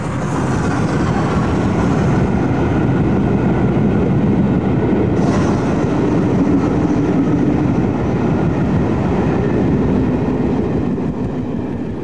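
LNER express steam locomotive No. 6009 running, a loud, steady, continuous rumble of engine and rolling wheels that fills the whole passage without pause.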